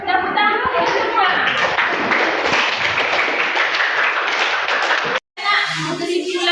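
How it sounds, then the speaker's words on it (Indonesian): A school audience at an Indonesian vocational high school claps hands together in a dense, loud burst that lasts about five seconds, cuts off sharply, and is followed by people talking. "Tepuk tangan semua."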